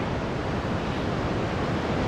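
Waves of a tidal river in eastern China surge as a dense, continuous roar of rushing water, loud and broadband, with wind buffeting the microphone and no talking.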